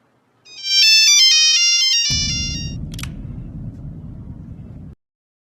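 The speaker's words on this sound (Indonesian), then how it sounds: "Jason berusaha kembali menghubungi Katie yang masih belum ditemukan." A mobile phone ringtone plays a bright, rising and falling electronic melody for about two seconds. It then gives way to a brief click and a low, steady rumble that lasts until the sound cuts off abruptly.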